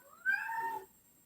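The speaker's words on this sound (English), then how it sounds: "I hear a cat crying." A pet cat gives one short, clear meow, rising then falling in pitch, fairly near and alone against a quiet room.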